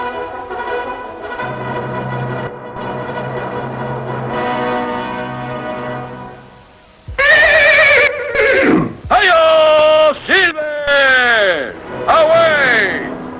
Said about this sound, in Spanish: Un veloz caballo que corre como el rayo levantando el polvo al llamado de su amo, Mario Silver, el llanero solitario.